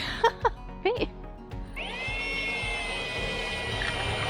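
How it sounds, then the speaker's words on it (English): A power drill bores holes for solar panel mounts on a catamaran sailboat, winding up into a steady, sustained whine after a few brief clanks and handling sounds, fairly close and moderately loud. "So right now he's drilling all the holes."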